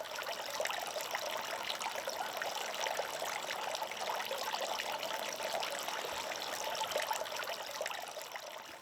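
Water trickles steadily from a garden water feature made from an old kettle bubbler, producing a faint, continuous splashing babble with no voices over it.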